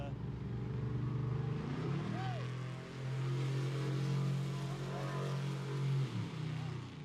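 A car passes near a drag strip, its engine a steady low drone that swells and fades over several seconds while people talk nearby.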